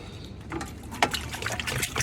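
About 2.5 liters of cooking oil trickles and splashes into a large deg pot for mutton biryani, a brief close liquid pour with uneven gurgling bursts and no voices.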